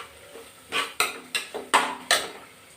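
Tomatoes going into a hot pan for methi pulao, with a spoon scraping and stirring against the metal in about six short, distinct strokes over a faint background sizzle, close and fairly quiet.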